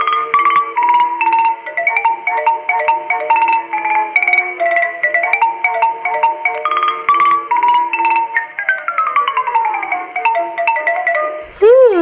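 Mobile phone ringtone plays a loud, bright melodic jingle repeating for about twelve seconds, cutting off abruptly near the end.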